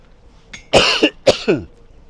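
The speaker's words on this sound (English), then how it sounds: "I'm going to cough." One person coughs up close, two or three harsh coughs in a short burst, loud and alone with no talking.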